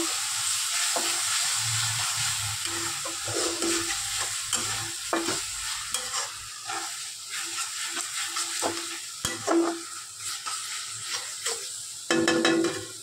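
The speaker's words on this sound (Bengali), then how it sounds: "দিয়ে আবার নাড়তে থাকবো।" Soya chap coated in masala sizzles gently in a pan while it is stirred, with repeated scrapes and knocks of the spatula against the pan. The sound is close-up and fairly quiet, with no talking.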